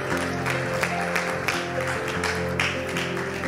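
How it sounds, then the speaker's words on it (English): Church congregation clapping hands during a worship service, a dense run of applause from many people over held music tones, steady and fairly close throughout the short stretch. "Clap your hands."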